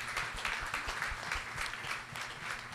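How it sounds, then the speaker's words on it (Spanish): Crowd at a church anniversary celebration clapping for the Lord, a continuous moderately loud patter with some individually audible claps and light rhythmic pulses throughout. "denle un aplauso al Señor por praise todo esto"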